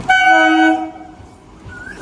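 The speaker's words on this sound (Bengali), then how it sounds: "আমাদের ট্রেনটা চলে এসেছে সেই গেদে লোকাল" An arriving Gede local train at a station gives a loud horn blast for under a second, followed by the fading rumble of the rail cars rolling in.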